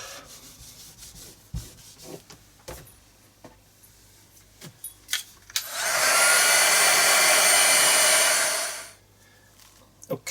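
A heat tool blows steadily for about three seconds, drying paint on an art journal page, after some rubbing and handling noises of tidying up the craft table; no one speaks.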